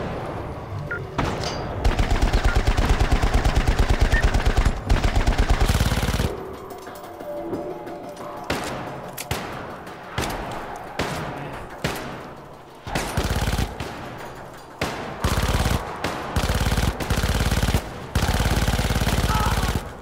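Gunfire in the video game Syndicate, loud rapid automatic bursts broken by short pauses and single shots, repeating across the whole stretch without talk.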